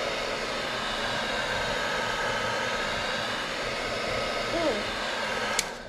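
A heat gun blows a steady, even hiss of hot air onto trim on an old OBS Chevrolet Silverado truck, holding constant throughout with only a faint click near the end.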